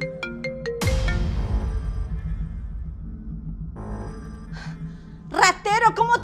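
A mobile phone ringtone chimes in a short melodic pattern, followed by a loud impact, then ringing sounds fade under background noise and a shout about a stolen phone.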